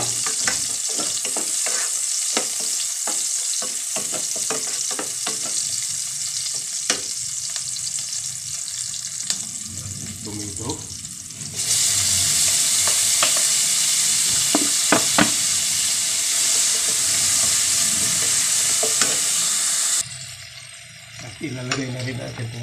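Onions frying for ginisang ampalaya with pork, a steady loud sizzle with stirring scrapes throughout, the hiss growing brighter midway, a little talk in the background.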